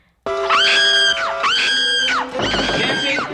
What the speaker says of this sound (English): starts screaming, and they use the same scream